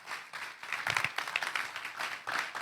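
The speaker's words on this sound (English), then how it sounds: "Could you please clap for it?" Audience at a seminar applauding together, dense steady clapping from many hands at moderate distance, lasting the whole stretch without talk.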